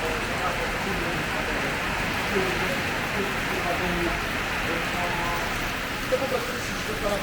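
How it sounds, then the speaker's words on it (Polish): A steady, dense hiss of heavy rainy-season rain in Thailand pours down without letup, loud and close, with occasional faint voices in the background. "Sekundę się tak rozpadało."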